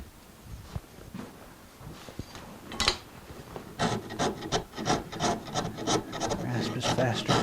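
A rasp files excess off a piece of wood in the shop. After a few quiet scrapes and a knock, steady rhythmic rasping strokes follow close and loud, each one a gritty rub.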